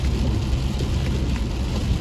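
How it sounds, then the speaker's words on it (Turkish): Heavy rain with wind beats on a car driving into a village, a loud, steady wash of noise over a low road rumble, with no talking. "ciddi bir yağmur var"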